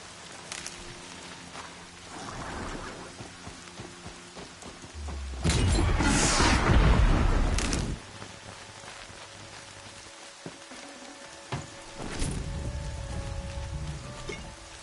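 Rain in the game Horizon Zero Dawn, played on PS5: steady rainfall with a loud heavy surge in the middle of the clip and a later burst that could be thunder, with music tones underneath and no speech.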